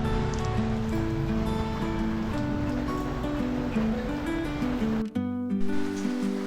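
Steady rain falling outdoors at Wawa Dam, a continuous broadband wash with a low, constant hum layered underneath, holding a close, even level throughout.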